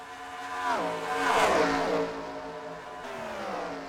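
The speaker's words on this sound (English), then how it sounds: "These things sound like open wheel cars." NASCAR-style race cars at Charlotte, sounding like open-wheel cars, scream past with a rising then falling pitch, loud and close for a moment before fading into a continuing engine drone.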